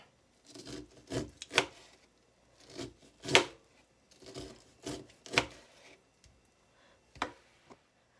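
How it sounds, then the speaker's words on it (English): A knife slicing fresh corn kernels off an upright cob into a bowl, heard as a string of separate rasping scrapes and soft thuds at uneven intervals, close and fairly quiet, with no voices. "I just stand it on its flat end and bring the knife down and rotate the corn"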